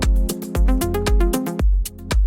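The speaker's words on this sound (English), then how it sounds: "This creates that pumping effect." A sidechain-compressed electronic track pumps rhythmically, its sustained synth chords ducking in volume under each heavy kick drum hit and swelling back between beats in a steady loud pulse.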